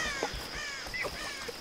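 In Tomb Raider (2013), a crow caws several times in short, harsh calls spaced apart, moderately loud over a steady background hum, with no speech.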